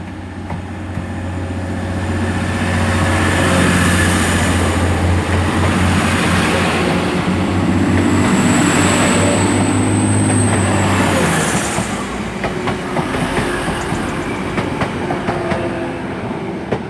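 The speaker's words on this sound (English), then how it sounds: "departing out now is the 1440 TransPennine Express service heading for Manchester Piccadilly" A TransPennine Express train, a class 185 pair, departs Selby station for Manchester Piccadilly, its engine drone and rolling wheel noise swelling loud then easing away, with a high squeal midway.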